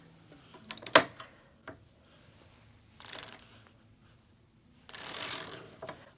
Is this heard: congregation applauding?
no